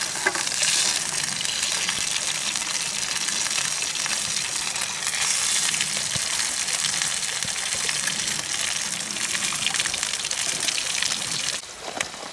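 Loud, steady sizzling and crackling of oysters frying in hot oil in a frying pan outdoors by a creek, close up, continuing without pause before tapering slightly at the end.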